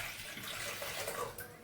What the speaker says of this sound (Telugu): ఇంకో బౌల్లో మనము వాటర్ వేసుకోవాలి.